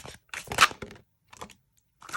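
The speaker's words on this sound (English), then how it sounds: "I'm going to do one more shuffle here." Tarot cards shuffled by hand in a few close, crisp bursts of riffling and slapping, separated by short silent pauses.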